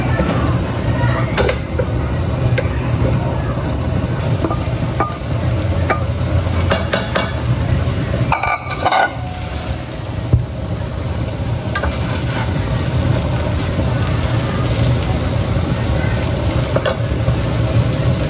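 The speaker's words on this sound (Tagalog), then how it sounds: "ilalagay na po natin itong ginayod na makapuno" Grated makapuno coconut stirred in a hot pan over a low flame, a steady sizzle and frying hiss with repeated scraping stir strokes throughout, close and fairly loud, no voices.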